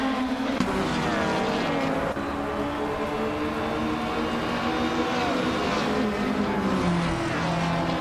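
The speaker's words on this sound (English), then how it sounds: "the race kicks off at Dubai International, and leading the pack is Feskis in a 26 BMW 20SA20 side, sitting on pole position" Race cars launch at the start of a BMW race at Dubai International in a racing video game, a dense, loud roar of several engines revving and droning together, continuous and near.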